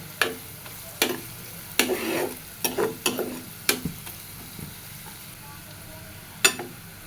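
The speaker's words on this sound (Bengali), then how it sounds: "পেঁয়াজ আর রসুনটা ভাজা ভাজা হয়ে গেলে তারপরে দিব গুঁড়া মশলা" Onion and garlic fry quietly in a pan under a soft sizzle while a spatula scrapes and stirs in about eight sharp, irregular strokes.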